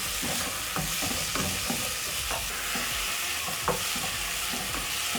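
Beef frying in a pot with beef-flavour Royco cube, stirred with steady scraping strokes over a continuous close sizzle, a spoon knocking the pot every half second or so.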